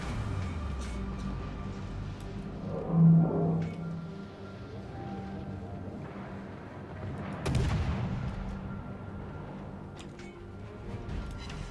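Torpedoes strike a ship in a naval video game, heard as two muffled, heavy explosive bursts a few seconds apart over a quiet, low rumbling background.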